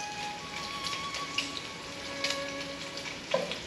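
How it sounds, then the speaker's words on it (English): Bacon frying in a pan gives a steady, faint sizzle. Scattered sharp pops and spits come through clearly, close to the microphone. "you better stand back, don't get popped. Bacon had no mercy."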